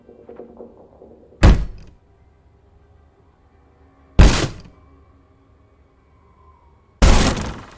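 A door is forced open in the video game Draugen: three heavy, sharp bangs spaced a few seconds apart, each a loud crash with splintering decay, against near silence.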